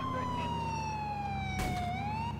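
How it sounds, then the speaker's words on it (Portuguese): Police car siren in a video game, a steady loud wail sweeping slowly in pitch throughout, with a brief burst of noise partway through and no talking. "Deixa eu desligar a sirene."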